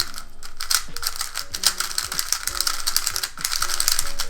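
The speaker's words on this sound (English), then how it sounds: "let's do some more turns and see how the puzzle feels" Rapid clicking and clacking of a MoYu WeiLong GTS3 M speed cube being turned, its springs slightly compressed, in quick rhythmic bursts of close, crisp plastic snaps.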